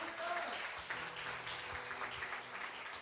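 Church congregation applauding at a service, a steady wash of clapping throughout with voices mixed in.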